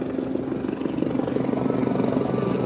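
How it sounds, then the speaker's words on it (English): An LAPD police helicopter makes a low flyby, its rotor drone steady and fairly loud and building slightly throughout, with no talking. "LAPD doing a low flyby"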